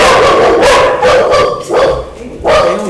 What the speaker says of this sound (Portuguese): Liga não, é os cachorros que tá aqui.